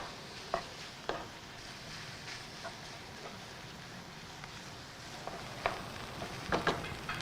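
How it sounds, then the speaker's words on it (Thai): Minced meat stir-fried in a little oil in a pan until dry and rendering fat, with a low steady sizzle and soft scraping stirs of a utensil recurring through it. "เราจะรวนจนเนื้อของเขาเนี่ยนะครับ แห้งๆแล้วก็ไขมันออกมานะครับ"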